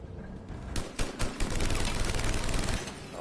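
An over-the-top gun fires in Mass Effect Legendary Edition, a few spaced shots giving way to a rapid, sustained burst of loud close automatic fire.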